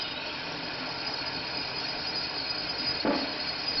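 A Tormach PCNC 1100 CNC machine with a RapidTurn lathe attachment makes a continuous mechanical whir as it cuts parts, with a brief rougher burst near the end.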